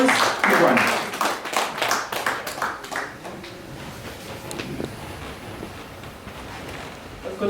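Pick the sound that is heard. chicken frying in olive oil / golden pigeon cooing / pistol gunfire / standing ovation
standing ovation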